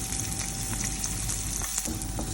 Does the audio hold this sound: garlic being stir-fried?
yes